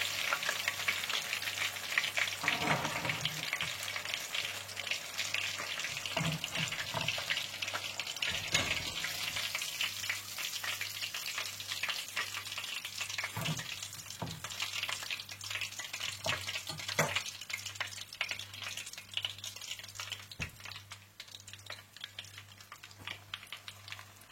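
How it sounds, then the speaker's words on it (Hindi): Chicken popcorn pieces deep-frying in oil until golden brown, a continuous close bubbling sizzle with occasional stirring clatter and scraping over a low steady hum, no talking. "इसी तरह से आप सारे चिकन को फ्राई कर लें।"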